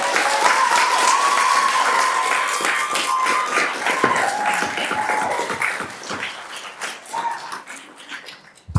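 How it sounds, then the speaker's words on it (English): An audience at a city council meeting bursts into sustained, loud clapping that gradually thins and tapers off, with a brief voice heard over it. "Please keep the clapping to a minimum"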